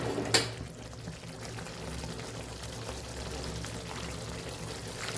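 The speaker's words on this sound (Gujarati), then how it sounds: "તો આપણે હજી અડધા કપ જેટલું ગરમ પાણી ઉમેરશું" A short splash at the start, then a steady low bubbling and gentle liquid noise as hot water goes into a simmering fenugreek-leaf gravy in a pan.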